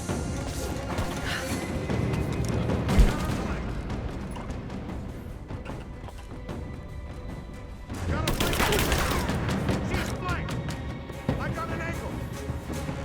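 Enemy gunfire rattles in dense, sustained bursts during a Rise of the Tomb Raider firefight, loud and layered with a sharp impact near the start and a fresh surge of shooting midway, and a voice talks over parts of it.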